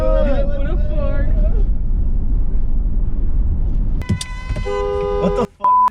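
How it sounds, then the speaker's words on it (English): A car horn blasts near the end, a few sharp honks close by. Before that come a voice and a low vehicle rumble from inside the moving car. "Did you hear that honk?"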